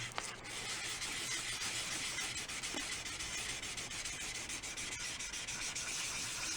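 Hand sanding paint off a Ludwig Red Sparkle snare drum shell gives a steady, close, continuous abrasive rubbing hiss with no pauses and no voices.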